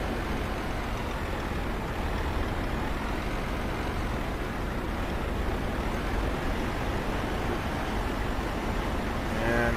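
A heavy truck hauling a trailer in Euro Truck Simulator 2 rumbles steadily over speed bumps, a loud continuous engine and road drone with no talking.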